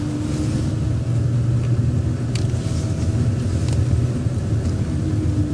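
A learner driver's car pulls away on a driving test at Cardington, with a steady low engine rumble and road noise filling the cabin and no talk over it.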